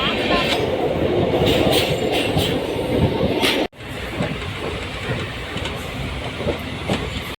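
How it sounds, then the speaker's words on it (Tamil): A passenger train bound for Chennai Central rolls along with steady rumbling and rhythmic clattering of wheels on rails, loud and close, with a brief cut midway. "ட்ரெயின் வந்துச்சு"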